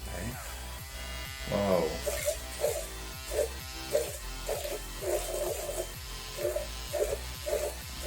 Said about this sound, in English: Turn the device on and continue to move the brush up and down for 10 seconds.